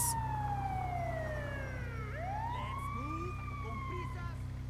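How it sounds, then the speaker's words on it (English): An ambulance siren in a street-racing video game wails in long falling and rising sweeps over a steady low engine drone, fairly loud and close. "It's an ambulance."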